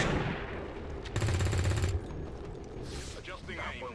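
Rapid sustained gunfire from a sharpshooter in the turn-based tactics game Long War, a dense burst of shots over game sound with an excited voice talking throughout.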